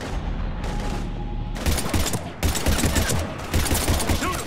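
Dense gunfire in the sci-fi shooter Mass Effect 3 during a firefight against husks, with sustained bursts of automatic weapon fire and heavy crackling volleys that intensify in waves over a low rumbling battle background.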